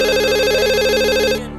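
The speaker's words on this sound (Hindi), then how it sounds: "बेटा फोन देखो" A telephone rings loudly with a warbling electronic trill, one long burst that cuts off near the end.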